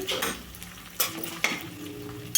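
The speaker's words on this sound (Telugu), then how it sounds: "అల్లం వెల్లుల్లి పేస్ట్ మాత్రం పచ్చివాసన అయితే వేగాలి" Ginger garlic paste frying in a pan for a ridge gourd and tomato curry, a soft close sizzle punctuated by a few sharp utensil clicks.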